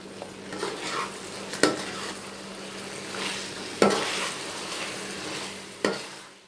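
Chicken karahi, garnished with coriander and green chillies, being stirred in a pan: three sharp clinks of a utensil against the metal over a continuous sizzle, with soft scraping between them and no voices.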